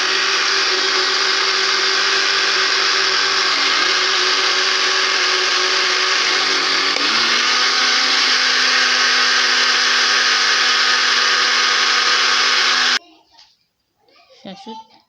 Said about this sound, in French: Voilà, on met dans le mixeur comme ça.